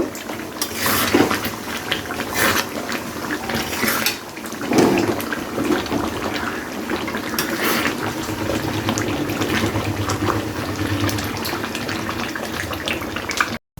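Hot mutton curry with yogurt gravy gets ladled onto a plate, with wet spooning and scraping against the pot and dish, light clinks, and slurping liquid continuing close by.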